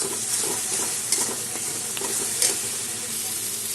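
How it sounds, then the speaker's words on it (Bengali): Spice paste of green chillies, cashews and melon seeds fries and is stirred in a pan for a Bengali kofta curry, a steady close sizzle with a few louder scraping strokes and no talking. "সব মশলা এখন সব কষিয়ে নেব।"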